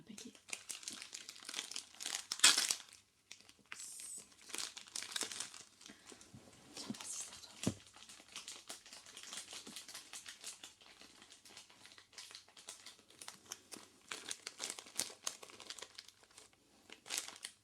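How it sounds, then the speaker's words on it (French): A plastic packet is crinkled and torn open close to the microphone in an intimate whispery office setting, with bursts of crackling and rustling scattered throughout and soft speech in between. "Ça serait bien que j'arrive à ouvrir le paquet"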